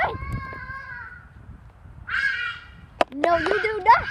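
Birds caw loudly around a house, harsh repeated calls in short bursts with a sharp knock between them, while a person shouts at them.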